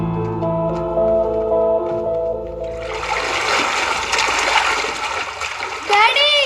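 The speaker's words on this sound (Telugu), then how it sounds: "వాటర్లో ఆడుకోవడం చాలా బాగుంది." Water splashes and churns loudly as people play in it, with voices calling over the rush. Music plays before the splashing starts.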